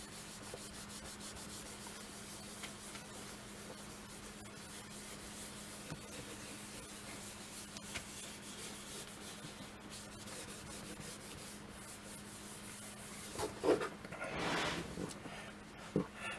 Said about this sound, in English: we're going to go to our old standby, the white eraser